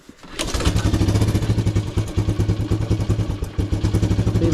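A 1984 Suzuki LT185 ATV engine fires on one pull of the recoil starter with choke on, giving a loud burst of rapid chugging that sputters and stumbles for a few seconds before fading unevenly.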